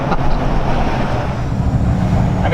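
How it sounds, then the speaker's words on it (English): Tuned L5P Duramax diesel pickup idling, a steady low rumbling exhaust drone that holds even and loud throughout with a slight rough pulse. "This might be one of the last times that I get to hear the exhaust note like this and idle."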